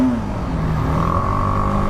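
A BMW G310R motorcycle fitted with a BMC performance air filter revs steadily, its engine note rising slightly and holding, close and loud with no talk.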